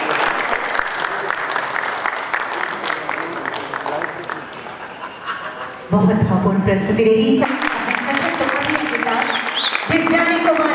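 An audience at a theatre festival performance at Audrey House in Ranchi applauds loudly in a sustained burst of clapping, with a host speaking over it and the applause swelling again partway through.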